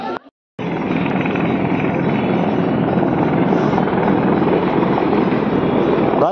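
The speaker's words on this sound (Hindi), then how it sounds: "गाइस देख सकते हो हेलीकॉप्टर लैंड होने वाला है।" A landing helicopter's loud, steady rotor roar fills the air, close and continuous after a brief silent gap at the start.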